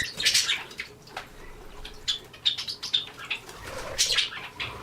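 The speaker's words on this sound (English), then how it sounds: "once that one bird will bathe, the splashing brings over the other birds." Pet birds in a bird room, a budgie, a parakeet and a lovebird among them, splash while bathing: bursts of fluttering, flapping wings and sprayed water come in clusters, mixed with small chirps, close and fairly loud.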